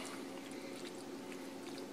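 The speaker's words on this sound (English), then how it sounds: "we're going to take some of the chicken and vegetables, and we're just going to pour that right over top" Chicken and vegetables with juice from a chicken cacciatore being poured over a dish, a faint, steady wet pouring and trickling that runs the whole time, alone with no talk.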